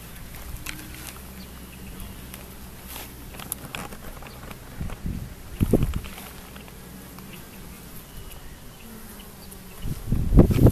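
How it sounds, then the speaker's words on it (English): Bees buzz around a row of hive boxes continuously at a moderate distance, with intermittent rustling and shuffling steps that grow louder toward the end. "You hear them buzzing too."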